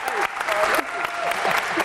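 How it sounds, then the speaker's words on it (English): A studio audience at a university event bursts into dense, close applause with a few cheers, the clapping loud and continuous throughout. "let's give her a round of applause."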